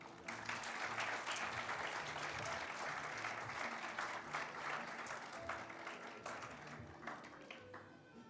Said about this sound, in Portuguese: eu solicito de vocês uma salva de palmas ao professor Alberto.